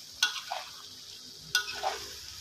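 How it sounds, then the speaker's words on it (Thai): Chili curry paste being stir-fried in a pan for a spicy chicken and pickled bamboo shoot curry, with two sharp clanks of a utensil against the pan over a faint sizzle. "นี่ครับผัดให้ส่วนผสมของพริกมันเข้าไป"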